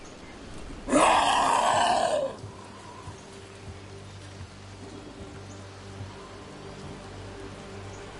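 Rain in the video game Dragon Age: The Veilguard, heard as a loud roaring burst of about a second, then a softer steady patter under low rumbling ambience.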